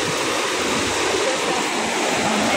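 Strong floodwater after a typhoon rushes in a dense, loud, continuous roar of churning water, close and unbroken.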